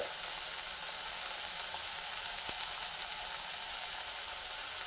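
Cabbage frying in a pan as spice masala goes in, giving a steady, even sizzle throughout at moderate loudness, with no voices present.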